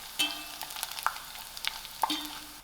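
Chicken spring rolls fry in hot oil with a quiet, steady sizzle and a few soft clinks and crackles as they are turned, heard close up with no talking.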